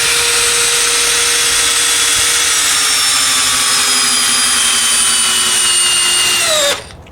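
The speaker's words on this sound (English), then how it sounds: "We're going to start with the drill. I'm going to make sure that it's in low range. 1/4 inch by 6 timber lock." A DeWalt 12V Xtreme brushless drill in low range drives a 1/4 by 6 inch TimberLok screw into wood with a loud, steady whirring motor whine that slowly drops in pitch under load before stopping abruptly.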